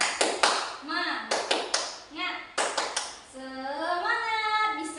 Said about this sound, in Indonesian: Oke, ayo anak-anak semua tepuk semangat.